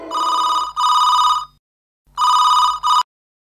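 A telephone rings in two close pairs of loud electronic trills, each burst about a second long, with a short pause between the pairs and no voices.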